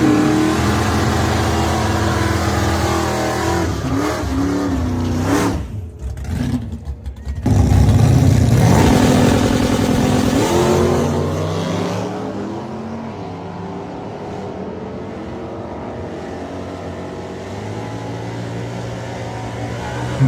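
Muscle cars launching in a street drag race, loud close engines revving and accelerating with rising and shifting tones, a brief gap between gears, then a sustained lower roar as they pull away.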